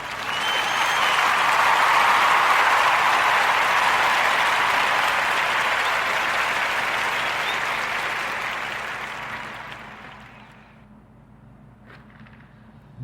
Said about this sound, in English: join me into giving our brother Eric Thompson a warm Narrative podcast round of applause.